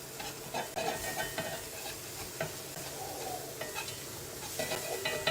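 A metal spatula scrapes and loosens Cuban frita burgers on a hot griddle, steady close sizzling under repeated scraping strokes, with no talk.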